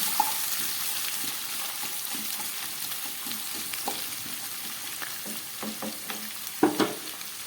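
Carrots and capsicum frying in a pan sizzle softly and steadily, with scraping and stirring clatters from a spatula growing louder near the end.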